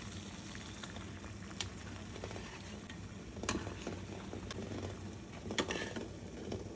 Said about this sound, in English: Right now, I'm gonna hard-boil 3 eggs